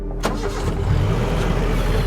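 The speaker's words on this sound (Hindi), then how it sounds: "गाड़ी स्टार्ट हो गई है।" A car engine in the Jawai forest of Rajasthan catches after failed attempts to start, then runs with a steady loud rumble and idle hum that continues close by.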